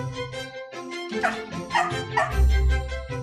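West Highland Terrier barks and yips excitedly at close range, a rapid run of high, whining barks mixed with whimpers, loud and continuous.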